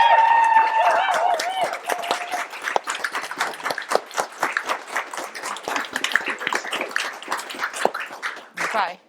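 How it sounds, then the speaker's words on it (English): Applause from an audience at a book launch, a steady burst of claps that starts loud alongside a sustained tone and gradually thins into scattered clapping over several seconds. "let's just have a proper round of applause for this incredible woman."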